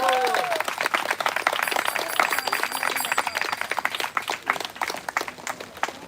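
Wedding guests at a Vedic wedding ceremony break into sustained applause and cheering, a dense wash of clapping at close range with voices mixed in.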